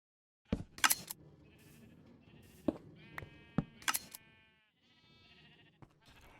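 Sheep in the video game Minecraft bleat close by in a few short, sharp calls spread across several seconds, with soft clicks and quiet gaps between them.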